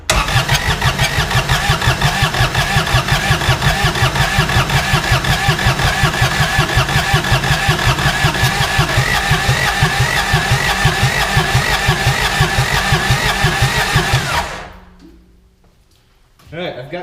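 A 2011 Kawasaki Mule 4010 utility vehicle's diesel engine cranks with a rapid rhythmic chug for about fourteen seconds, then stops abruptly, with a brief mechanical sound near the end.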